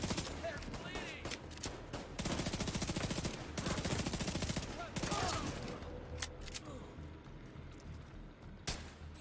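Bursts of automatic gunfire ring out in The Division 2, rapid rattling volleys around the two- and four-second marks followed by scattered single shots and distant impacts, loud and close.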